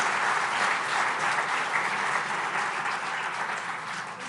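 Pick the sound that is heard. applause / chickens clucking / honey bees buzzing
applause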